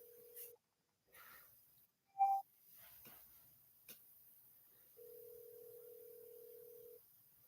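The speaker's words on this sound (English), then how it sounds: "I gotta make a phone call." A telephone during the dialing of a call: faint steady dial tone beeps, a short button tone, scattered handling clicks, then a longer sustained dial tone toward the end, all quiet and without speech.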